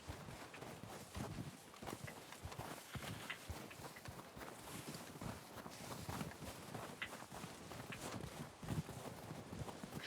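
In a Western roleplay video game, horse hooves clip-clop at a steady walking rhythm. The clopping is faint and continuous, with a soft background bed.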